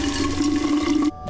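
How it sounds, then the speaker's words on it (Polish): Water runs steadily from a tap into a container in the game We Happy Few, a continuous rushing stream that cuts off abruptly near the end, with no talk over it. "Fill container with tap."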